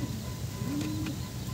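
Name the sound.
pigeons cooing in loft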